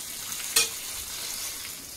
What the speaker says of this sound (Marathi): आता या फोडणीत आपण छान तळून घेऊया.